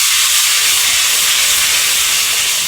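Chili water poured into hot oil for a tempering of red chilies sizzles loudly and steadily, a broad close-up hiss filling the whole moment without pause.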